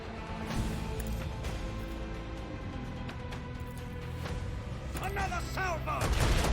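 A heavy ship-to-ship salvo from Warhammer 40k Rogue Trader booms and crashes in sustained waves, with a louder burst of impacts toward the end under game voices.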